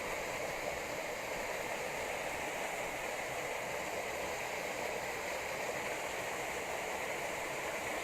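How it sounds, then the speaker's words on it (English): A small waterfall on Dartmoor near Bellever gives a steady, even rush of falling water that holds at moderate, unchanging loudness throughout, heard alone. "there's a lovely little waterfall in there"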